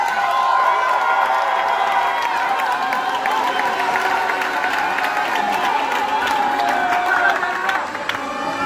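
Students at a university graduation ceremony cheer, shout and applaud as a crowd, a continuous loud roar with whoops that drops off near the end.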